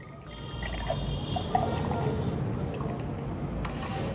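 Whey protein shake mixed with water being poured into a container, a steady liquid pour and trickle with faint splashing that runs evenly for a few seconds, close to the mic with no talking.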